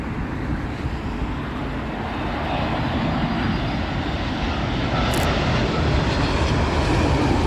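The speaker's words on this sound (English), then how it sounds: "let's have Etihad's Dreamliner on top of that as well. And this one obviously coming in from Abu Dhabi" An Etihad Boeing 787 Dreamliner arriving from Abu Dhabi at Heathrow Airport gives a broad, steady jet roar that slowly grows louder as it approaches, heard from a distance without talk.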